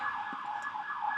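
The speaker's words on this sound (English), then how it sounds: "That's like a police siren." A steady, wailing police siren holds a high tone throughout, fairly distant and continuous with no voices over it.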